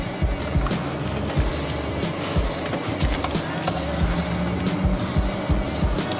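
BMW car starting to roll with engine running, a steady close rumble and road noise throughout with scattered knocks and bumps, no talk.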